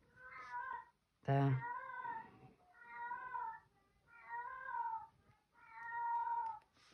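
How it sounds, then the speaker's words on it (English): A female cat in heat yowls in long, drawn-out meows, about five calls spaced through the clip, fairly near, with a voice briefly between them. "Can you hear my cat? She's still on heat."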